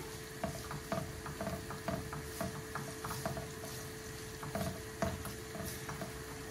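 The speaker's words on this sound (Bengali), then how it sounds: "এখন আমি পেঁয়াজ দিলাম, কেন বড় একটা পেঁয়াজ দিছি" Onion frying in a hot pan for egg and potato pasta, a soft sizzle beneath repeated rhythmic scraping and stirring clicks of a utensil against the pan.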